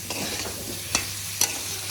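Potatoes and spice masala sizzle in a wok as a spoon stirs them, with a steady close frying hiss and two crisp scraping knocks against the metal.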